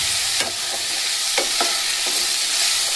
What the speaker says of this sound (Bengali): দেখুন সুন্দর ভাজা হয়ে গেছে আর সেদ্ধও হয়ে গেছে আলুগুলো